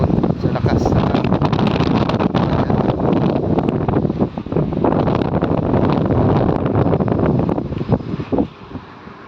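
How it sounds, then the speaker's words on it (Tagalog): Strong wind blowing through date palm trees, a loud continuous roar of gusts and rustling leaves buffeting the microphone, easing off briefly near the end. "Sumasayaw ang mga dahon sa lakas ng hangin."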